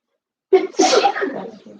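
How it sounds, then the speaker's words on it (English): A single loud sneeze bursts out up close, followed by a short trailing exhale, with silence before it. "I just sneeze."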